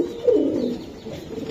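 Giribaz racing pigeons cooing, a soft low murmuring coo rising and settling over a brief stretch, close by and fairly clear with no voices.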